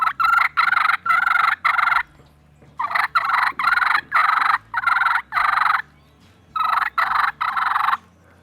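A turkey mouth call imitates the fighting purr, with a close, loud string of rapid rolling bursts in three fast runs separated by short pauses and no talking.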